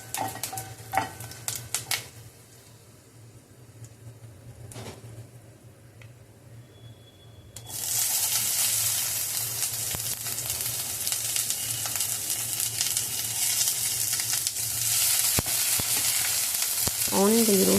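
Onion and chana dal roasting in a pan: a quiet stretch of faint stirring and clinks, then a steady, broad sizzle swells up and holds loud and continuous, with occasional scraping of the spoon.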